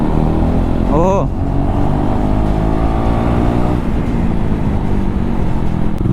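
A KTM Duke 390 motorcycle running without its dB killer, a loud, close, throaty engine drone with a quick rising rev near the start, then a steady rumble throughout, with a voice speaking briefly over it.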